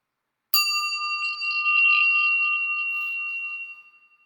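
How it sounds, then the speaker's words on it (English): A single meditation bell is struck once after a moment of silence, ringing with a clear bright tone that sustains and slowly fades out over about three seconds. "I'm going to ring the bell. When you can no longer hear the sound of the bell, you can allow your eyes to open."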